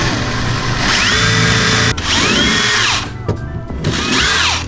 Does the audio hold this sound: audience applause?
no